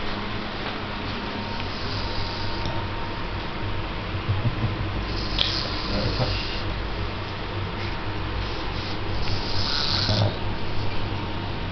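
A person snoring, steady rasping breaths repeating under a constant low hum, fairly close and uniform in loudness throughout, with no talk.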